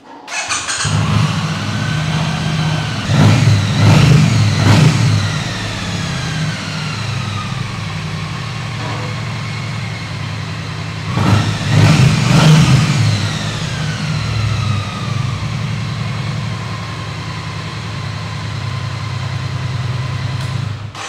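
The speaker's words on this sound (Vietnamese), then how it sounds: "mình nổ máy lần nữa các anh nghe nha." A Triumph T100 Bud Ekins limited edition motorcycle engine idles steadily and is revved twice in strong rising bursts, loud and close, with no talking.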